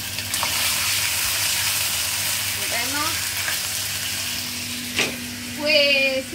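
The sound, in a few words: stirring frying rice and chicken in pan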